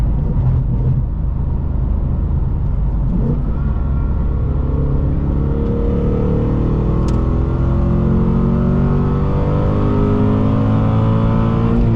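A Ford Mustang S650 with a cat delete and a 93-octane tune revs hard on the road, a loud, steady engine roar with rising harmonic sweeps as it climbs through the revs, filling the whole stretch.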